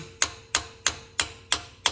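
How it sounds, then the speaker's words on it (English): A hammer taps a metal part on a squarebody truck, six sharp ringing strikes evenly spaced about a third of a second apart, close and loud with no talk. "we're gonna take this hammer and we're gonna tap it back down"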